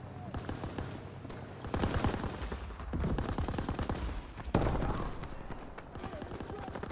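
Sustained gunfire from a Call of Duty WW2 War mode battle, with rapid overlapping shots and bursts forming a dense, loud fusillade throughout, marked by a sharp heavier blast midway and voices calling out beneath the shooting.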